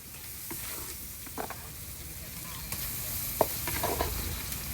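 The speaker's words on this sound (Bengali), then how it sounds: "আমার এই যে আরেকটার মধ্যে হলুদ মরিচ দেওয়া হচ্ছে, স্পেশাল তেলটা দেওয়া হয়েছে।" Turmeric and chilli sizzling in special oil in a pot for khichuri, stirred now and then, giving a soft continuous fry with occasional scrapes and clinks.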